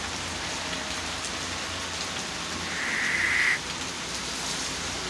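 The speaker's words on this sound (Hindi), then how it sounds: "बारिश शुरू हो चुकी है और लगी हुई है" Steady monsoon-season rain in Multan, Pakistan hisses evenly throughout, with a brief high tone rising above it partway through before fading back into the downpour.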